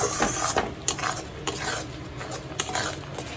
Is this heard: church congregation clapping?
no